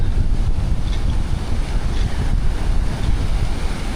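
Rough, continuous roar of rough sea waves mixed with heavy wind buffeting the microphone, loud and unbroken throughout.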